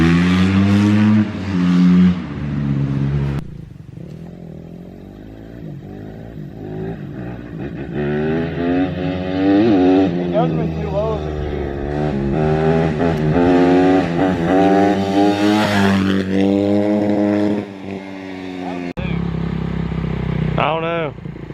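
Quad ATV engines rev and run loudly nearby, rising and falling in pitch with several accelerating pulls, while people talk over the engine noise.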